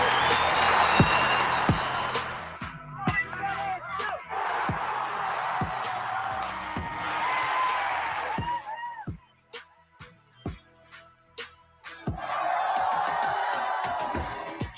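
A large crowd cheers and roars in loud swelling waves, broken by sharp claps and whoops, falling briefly quieter in the middle before surging again at the end.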